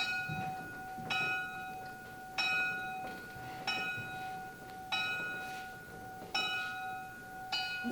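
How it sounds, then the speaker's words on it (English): An old school bell rings in regular strokes about every 1.3 seconds, each clang leaving a sustained metallic ring over a steady background hum. "The sound of that bell is no longer heard."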